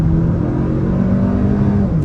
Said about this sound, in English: Looks like a good opportunity to try an acceleration off the line